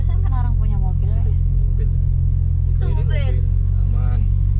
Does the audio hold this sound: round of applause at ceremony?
no